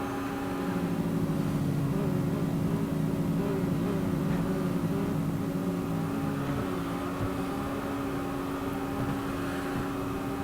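Porsche Boxster GTS racing car engine in the Real Racing 3 driving game, a steady, loud continuous drone with a strong held engine tone throughout, no clear revving peaks.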